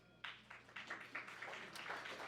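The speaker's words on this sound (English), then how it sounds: "Applaud these wonderful people." Audience clapping for board members at the Florida Humanities Hall of Fame ceremony, a short burst of applause that starts suddenly and holds steady at moderate volume, with a few louder claps in it.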